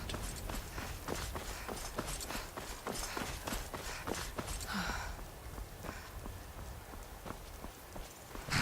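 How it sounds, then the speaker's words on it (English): Horse hooves clip-clop in a fast, steady rhythm in the video game Skyrim, then slow and fade toward the end, with no one talking. "Horse."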